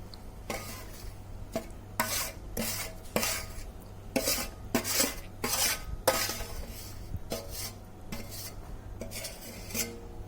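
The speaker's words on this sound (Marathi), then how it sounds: "हा मसाला थंड झालाय आणि तो आपण ह्या केलेल्या मिश्रणात सर्व आपण मिक्सर करणार आहोत" Repeated scraping and clinking of a spoon stirring spice mix into a thick fresh turmeric pickle mixture in a metal pot, uneven strokes throughout, close and moderately loud.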